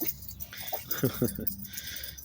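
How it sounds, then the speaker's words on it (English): Dogs romp outdoors with a stick, giving a few short, close yips and whimpery vocal bursts in the middle of the clip over steady wind-like background noise. "The dogs running around playing with a stick."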